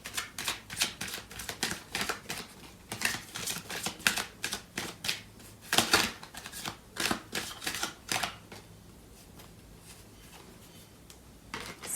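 A deck of tarot cards is shuffled by hand in quick, close, crisp riffling bursts, each a rapid flutter of card edges, repeated in a steady rhythm before fading to quiet near the end.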